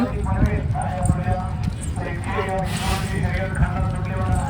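Bulls' hooves clop along steadily in rhythm, being led through a busy, noisy crowd at a bullock race event in Morgaon, with people talking nearby.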